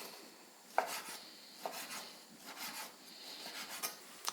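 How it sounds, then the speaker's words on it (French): A knife cuts pork into lardons on a board, giving quiet, close scraping strokes with a few sharper taps at irregular intervals. "Et puis on va tailler nos lardons."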